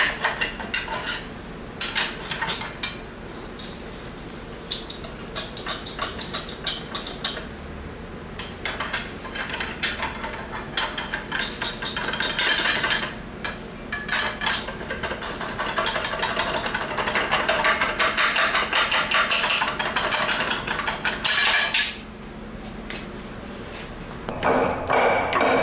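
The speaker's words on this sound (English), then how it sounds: "now I can pry on the vanos cover" Metal tools clanking and tapping against a BMW M52 engine while prying off its VANOS cover, with irregular knocks and scrapes over a steady background noise and a brief quieter pause near the end.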